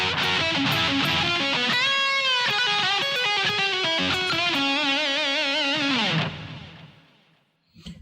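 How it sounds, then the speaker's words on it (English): Slow distorted electric guitar run through a full solo lick, loud sustained notes with bends and vibrato, played solo and ringing out at the end. "when you put it with the first part at a slow tempo, the whole lick should sound like this."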